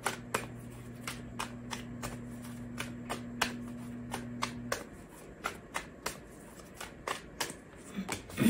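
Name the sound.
shuffling tarot cards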